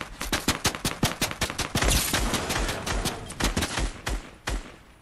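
Rapid gunfire from a Fortnite match rattles off in dense bursts of sharp shots, some spaced and some fired in quick strings, loud and close with no talking.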